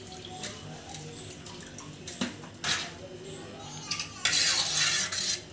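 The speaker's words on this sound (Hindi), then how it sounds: "डाल दो थोड़ा सा पानी, फिर भी ठंडा सा पानी," Cold water splashes and trickles in short bursts into a bottle gourd yogurt raita, ending in a louder, fuller pour, with faint kitchen clatter in the background.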